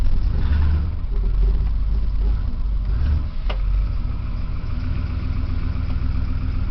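A four-wheel-drive dually truck rolls along with a loud, steady low engine rumble and a brief click midway, without any talking.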